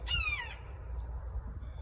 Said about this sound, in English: all of a sudden the crow starts doing its thing, so I figured there is a hawk